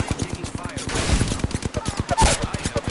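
Incoming gunfire in Apex Legends, a steady rapid stream of automatic shots with evenly spaced cracks, fairly close and loud, with a few heavier impacts mixed in.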